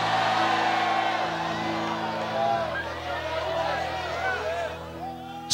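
A church congregation shouts and whoops together in a loud, sustained roar of praise, a dense crowd cry filling the room from start to finish with no single voice standing out.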